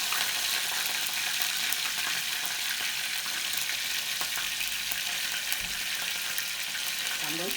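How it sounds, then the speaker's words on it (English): Beef bone pieces frying in a pot as a base for stew broth, a steady close hiss and crackle of sizzling oil throughout with occasional stirring noises, no talk. "I'm going to fry those bone pieces to create some sort of meat broth"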